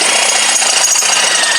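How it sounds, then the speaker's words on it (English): A power drill bores a 5/16-inch hole for mounting LED headlights on a Scag Tiger Cub mower, a loud, continuous grinding whine close by. "So now we drill up to the next hole,"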